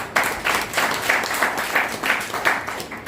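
Crowd clapping at a party foundation day rally in Haryana, a steady dense wash of many hands with rhythmic surges, loud and close, no voices over it.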